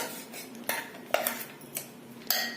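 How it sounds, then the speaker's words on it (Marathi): A spoon scrapes and knocks against a mixer jar while stirring a coarse green tomato chutney, with several sharp metallic clinks spaced irregularly over a faint background. "सर्व मिश्रण एकत्र केल्यानंतर चमच्यानी पूर्ण एकदा खालीवर करायचं"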